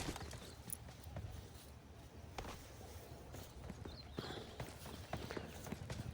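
Horse hooves clip-clopping in the PUBG Lite video game, a faint, steady walking beat over quiet game ambience.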